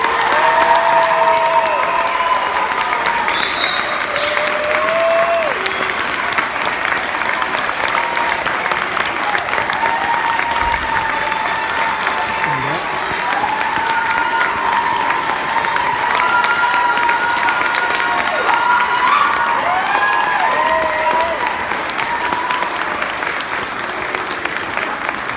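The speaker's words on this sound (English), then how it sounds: "give these kids just one huge round of applause" Sustained applause and cheering from an audience fills the room after a middle school band concert, steady and loud throughout with scattered shouts and voices rising above the clapping.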